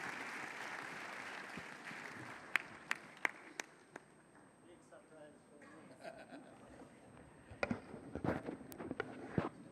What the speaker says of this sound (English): Let's give the President a round of applause as he comes up.